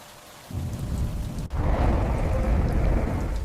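Heavy rain roars in a dense steady hiss, and a deep rumble of thunder swells in partway through and makes the downpour louder and fuller, with no voices.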